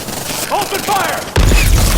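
Enemies in Horizon Forbidden West open fire: a voice shouts, then a sudden dense burst of loud gunfire erupts and continues to the end.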